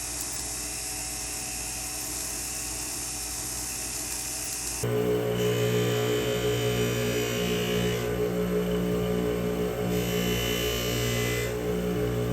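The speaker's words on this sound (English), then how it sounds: "now we're gonna be working on the final polishing, and then we'll ultrasonic and clean the ring." A polishing machine doing final polishing on a jewelry ring with a pear head setting: a steady whirring motor hum that shifts to a louder, higher-pitched whine partway through as the piece is worked.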